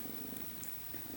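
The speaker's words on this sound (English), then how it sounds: "My cat's here too. Honey. Purring so much." A pet cat named Honey purrs close by, a soft, steady low rumble throughout the short moment.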